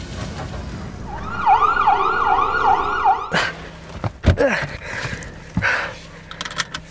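A wailing ambulance siren sweeps up and down in repeated cycles for a couple of seconds, loud and fairly close, then breaks off into scattered clicks and knocks.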